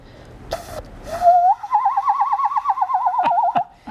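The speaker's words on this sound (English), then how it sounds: "so my ocarina makes sort of a bird-like sound" An ocarina holds a whistly, warbling, trilling note that wavers like a bird call, preceded by two short tones and a breathy puff.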